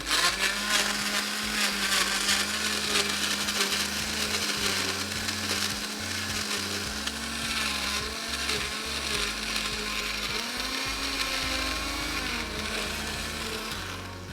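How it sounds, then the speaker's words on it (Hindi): A blender crushes ice with a little milk, running continuously at a steady, loud whir with a grinding, rattling edge for the whole stretch, and no one speaking. "ये जो है अपना आइस अच्छे से क्रश हो जाए"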